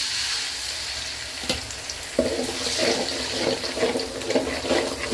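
Ginger garlic paste goes into hot oil in a pan for gobi manchurian, with a soft sizzle that swells into louder bubbling and spattering and carries on steadily to the end.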